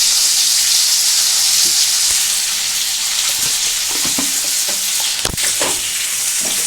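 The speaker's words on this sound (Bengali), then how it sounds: "কাঁকড়াটা আমার এখানে ভাজা ভাজা হচ্ছে।" Crab pieces frying with a little sugar in a hot pan give a steady, loud, close sizzle, with occasional stirring scrapes and a sharp clink near the end.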